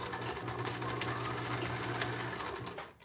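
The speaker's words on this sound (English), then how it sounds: "that's it for the sewing machine for this project" A sewing machine runs steadily, its fast mechanical stitching loud and continuous, slowing and stopping near the end.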